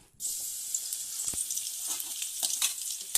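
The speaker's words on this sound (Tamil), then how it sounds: "எண்ணெய் காஞ்சிட்ருக்கு பெருஞ்சீரகம் பூண்டு மிளகு முதல்ல இதை போட்டு தாளிக்க போகிறோம்" Fennel seeds, garlic and pepper hit hot oil and burst into a loud, continuous sizzle, with scattered crackles and pops close by.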